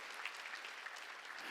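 A church congregation claps together during a Sunday worship service at Jesus Central Church. The applause is a dense, steady patter that is soft and distant and lasts the whole moment with no voices over it.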